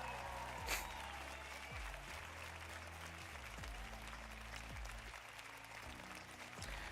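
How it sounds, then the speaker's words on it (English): Faint, steady applause from a crowd over a low background hum, continuing evenly throughout. "Let's give Shades a round of applause"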